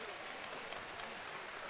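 Arena crowd applauding at an Aries Fight Series middleweight bout at Camp Jordan Arena, a steady dense wash of clapping filling the whole moment with no pauses.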